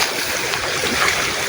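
A river stream flows in a rural Indonesian village, giving a steady, close, broadband wash of water with no gaps and no voices.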